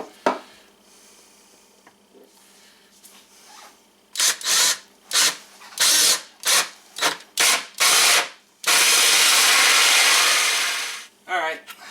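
A 1/4 inch drill bit boring a hole during a teardrop trailer build, with a quiet start followed by a run of short, loud whirring bursts in quick succession, then one sustained drilling run before it stops.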